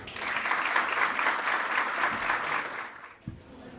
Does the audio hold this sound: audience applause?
yes